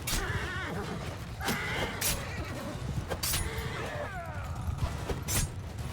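Horses neigh and whinny repeatedly during a battle in the video game Mount & Blade II Bannerlord, with sharp high calls rising over a steady din of hooves, clashing and battle noise.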